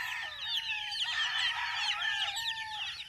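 Young pet chicks kept outdoors, a dense chorus of high, rapid peeping that runs continuously and fairly close throughout, with no talking.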